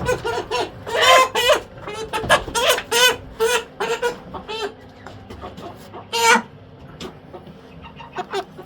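A 50-day-old Cobb 500 broiler chicken, handled during weighing, clucks and squawks close by in a quick series of loud, uneven calls with brief pauses between them.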